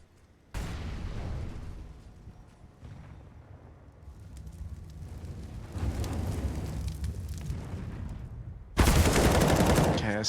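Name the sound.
gunfire in Counter-Strike video game match on Vertigo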